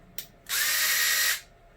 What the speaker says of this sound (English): make sure it's a drill driver because you will be doing a lot of drilling